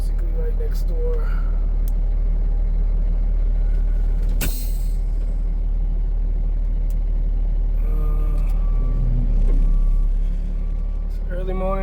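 Propane delivery truck driving at steady speed on an early morning route, its engine and road noise forming a constant low rumble, with one sharp air-brake-like hiss partway through and talking over it.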